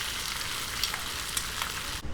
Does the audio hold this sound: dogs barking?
no